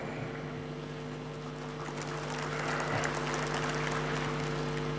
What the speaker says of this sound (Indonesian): Jangan terlalu sering tepuk tangan.